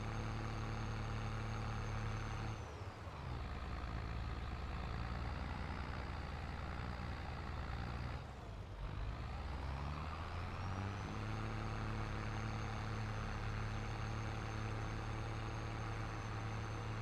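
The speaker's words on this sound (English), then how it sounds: "Well, this tractor keeps struggling." A tractor engine in Farming Simulator 22, pulling a chisel plow through a field of dead corn, drones steadily and loudly throughout, with two short dips where the load eases before the engine settles back.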